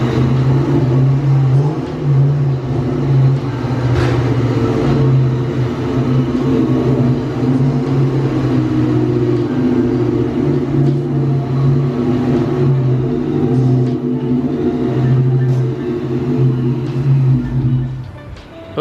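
Supercharged 1999 Ford Mustang GT engine running steadily close by for the whole span, a loud droning rumble with faint revving swells and whine layered over it, while the car is loaded onto a dyno.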